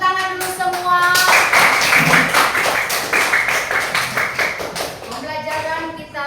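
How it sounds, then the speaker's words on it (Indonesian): Students clapping their hands at the end of a classroom lesson, a burst of brisk, many-handed clapping that swells and then tapers off, with voices talking before and after it. "Tepuk tangan dulu semua"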